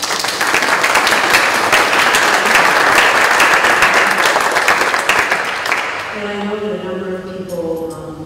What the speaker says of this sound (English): if you'd please join me in a round of applause